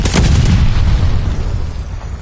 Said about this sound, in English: Hold on to enemy glide bomb incoming.